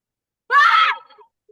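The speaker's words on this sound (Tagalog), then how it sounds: "Ang lakas na sigaw niya." A student in an online class lets out one loud, sudden scream lasting about half a second, tailing off into a faint trailing sound, with silence on either side.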